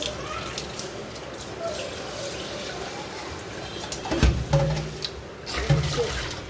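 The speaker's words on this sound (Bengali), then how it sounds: "আর মাখাতে পারছিও না আমি, পানি দিয়ে দিই।" Water pours into a spice paste for a hand-mixed fish dish in a home kitchen, a soft splashing trickle near the end over a steady background hiss.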